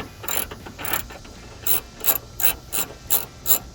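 A ratchet fitted with a 10mm socket loosens a bolt on the intake housing of a 2007-2011 Toyota Tundra, giving close, crisp clicks: two quick bursts, then a steady series of six evenly spaced clicks with no talking.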